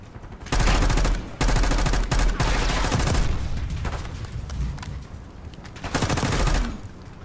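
Rapid gunfire from a Call of Duty Black Ops 6 campaign firefight at a rooftop enemy: loud, dense bursts and volleys, with a brief pause between heavy stretches and a final burst near the end.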